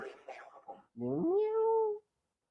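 A cat gives a single drawn-out meow, close and clear, right after a brief burst of indistinct voices.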